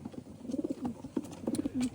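Soft, low racing pigeon coos repeat in short bursts, close by, with faint rustling and small clicks between them.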